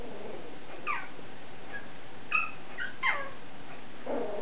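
Six-week-old Bichon puppies play-bite each other, letting out several thin, high whimpers and squeals in short bursts over a low background hiss, fairly faint and close.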